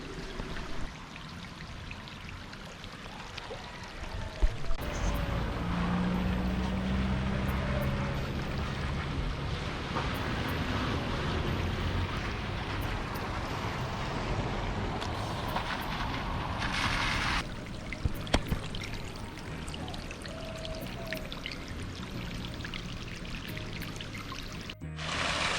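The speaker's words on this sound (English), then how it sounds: "Even after the rain stopped, the water does still run" Rainwater runs along a road in Jamaica after the rain has stopped, a broad rushing, splashing flow heard close up, with louder gushes partway through and an abrupt change near the end.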